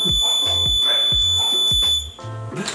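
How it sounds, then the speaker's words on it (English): A smoke alarm sounds a false alarm indoors during a makeup session: loud, piercing electronic beeps repeat in a quick pattern over a continuous high tone, close by, with no talking. "Okay, it was just a false alarm."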